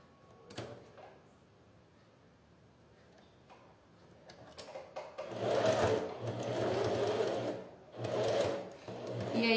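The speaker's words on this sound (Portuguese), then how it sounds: "eu já vou virar bem na beiradinha e costurar aquela outra parte aqui que ficou aberta" A sewing machine stitches a fabric jewelry box, starting with a few scattered clicks and handling noises, then running in two loud, steady whirring bursts with a short pause between them.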